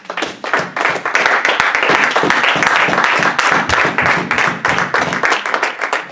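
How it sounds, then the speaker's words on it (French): A church congregation claps together in sharp, closely packed hand claps that build quickly and hold a loud, lively rhythm for several seconds. "Une main d'acclamation à la parole de Dieu."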